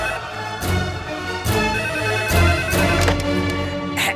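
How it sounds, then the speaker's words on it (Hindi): A telephone in another room rings in repeated bursts with short gaps between, steady and fairly loud against a quiet room. "ये रिंग दूसरे रूम के फोन की है।"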